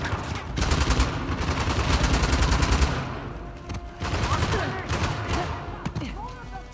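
Rapid bursts of automatic gunfire in the video game Uncharted: The Lost Legacy, loud dense volleys crackling for a few seconds, then scattered shots continuing under faint game sounds and voices.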